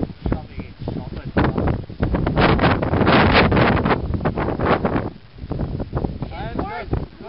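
Strong wind gusts buffeting an outdoor microphone in a loud, continuous roar that swells and eases, with people talking over it.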